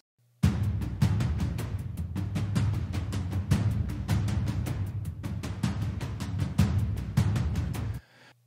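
Dense programmed drum tracks, mostly Native Instruments kits, hitting in a steady driving pattern for several seconds over a low sustained tone, loud and upfront before cutting off abruptly.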